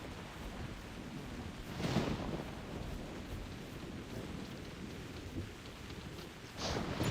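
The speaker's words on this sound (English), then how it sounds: "it's raining right now, so I don't know if you can hear me." Steady, close rain patters and hisses outside, with a couple of swelling rumbles rising above it. No voices are heard.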